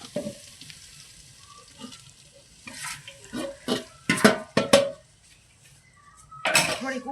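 Curry leaves go into hot oil while Dudhi na muthiya is being made, giving bursts of crackling sizzle with clinks and stirring scrapes from a pan, growing louder toward the end.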